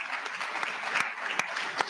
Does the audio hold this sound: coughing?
no